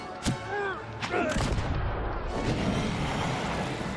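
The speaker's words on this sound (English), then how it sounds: "The cannons just do so much damage!" Cannons fire in the fantasy role-playing game Pillars of Eternity: a sharp blast and several booming shots over a dense, continuous roar of battle noise, with brief tonal game effects mixed in.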